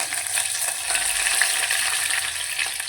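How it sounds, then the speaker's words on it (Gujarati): Mustard and fenugreek seeds crackle in hot oil, a close, steady sizzle sprinkled with tiny pops, heard alone with no voices. "રાઈ અને મેથી આપણા થોડા ફૂટવા લાગ્યા છે"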